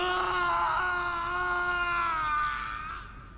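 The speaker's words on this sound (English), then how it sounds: "Oh, that's a good scream." A character screams in AI: The Somnium Files, one long sustained high-pitched shriek that holds steady for about three seconds, loud and close, then trails off.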